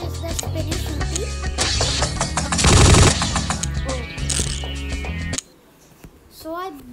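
Rapid automatic gunfire from a spinning multi-barrel weapon in the video game Pixel Gun 3D: a dense, loud stream of shots for about five seconds with a heavy burst in the middle, then a sudden stop into quieter game sounds, with someone talking over it.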